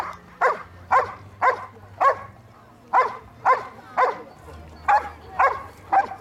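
A police dog barks loudly and steadily, a dozen sharp barks in quick rhythm, during an outdoor demonstration of a suspect apprehension at a public event in Jihlava, with a low rumble beneath.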